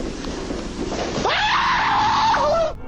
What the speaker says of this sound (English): Rushing footsteps come from within and send him screaming off the job site.